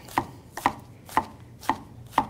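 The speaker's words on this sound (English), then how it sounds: "You want to chop it up" A knife chopping yellow onion on a board, five evenly spaced firm thuds about half a second apart, close and clear with no talk.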